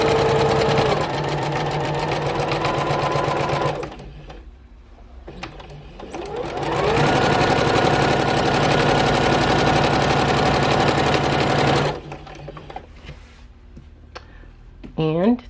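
Sewing machine stitching fabric postcards, running in a long steady whir that pauses briefly in the middle, then runs again and stops, with quiet handling noises afterward.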